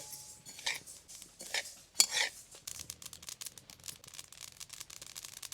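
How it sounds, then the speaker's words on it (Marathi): Sesame seeds being dry-roasted in a kadhai over a wood-fired chulha for jaggery sesame laddoos, with scraping and rattling stirring strokes against the pan, a few sharper metallic clinks, and a steady light rustle throughout. "चूल पेटली, कढई ठेवते. हवरी हवरी चांगली भाजून घ्यायची."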